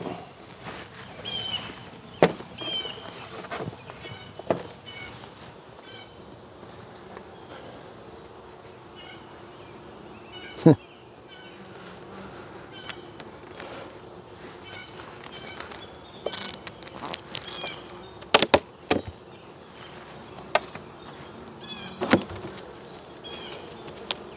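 Bees buzzing faintly during a beehive inspection, a low steady drone beneath intermittent knocks, clicks and handling noises from the hive equipment, with a few sharp louder thumps over about twenty-four seconds.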